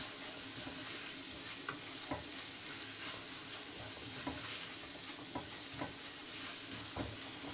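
Carrots and garlic with paprika fry in a pan as they are stirred, a steady hissing sizzle running throughout with soft, intermittent scrapes and taps from the utensil.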